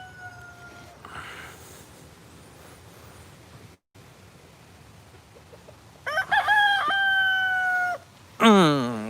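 Chickens clucking softly in a backyard with a rooster crowing loudly twice near the end, the calls close and clear over a low outdoor hiss.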